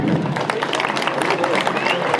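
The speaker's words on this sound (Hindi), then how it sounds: "बोल दें जोरदार तालियां क्लैपिंग" Applause from a crowd at a tournament opening ceremony in Churah zone, Chamba, a continuous dense patter of clapping throughout, with a voice audible over it.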